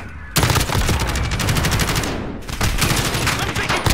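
Dense, sustained automatic gunfire in a Demolition match of a first-person shooter game, loud and close with rapid bursts running nearly continuously, briefly thinning before resuming heavily.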